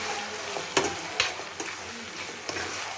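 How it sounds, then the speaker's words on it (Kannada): Tomato frying in a pan with steady sizzling, punctuated by several sharp stirring clacks of a utensil against the pan, close and fairly loud with no voices. "ಟೊಮೊಟೊದು ಹಸಿ ವಾಸನೆ ಹೋಗೋವರೆಗೂ ಫ್ರೈ ಮಾಡ್ಕೋಬೇಕು"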